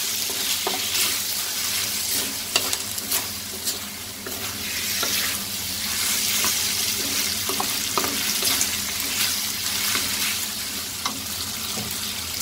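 Salted vegetables and beef stir-frying in a pan, with a steady close sizzle and scattered clicks of a utensil stirring, plus a faint watery hiss beneath. No voices.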